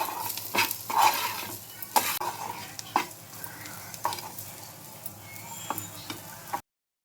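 Sweet corn with salt, chilli and garam masala is stirred in a pan, with repeated scraping and clinking of a spoon against the metal over a steady frying sizzle, close and without speech.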